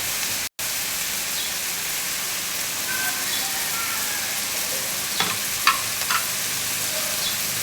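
Ingredients for Filipino chicken arroz caldo sautéing in a little oil, a steady broadband sizzle with a few stirring scrapes near the end, close and continuous.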